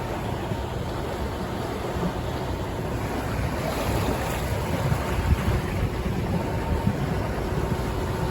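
A Sancak SVT 9.20 boat cuts through choppy sea on a rough day, giving a steady broadband rush of hull wash, waves and wind buffeting the microphone, with no voices.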